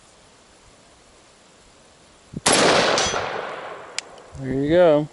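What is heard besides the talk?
7.5-inch barrel rifle shots hitting a steel target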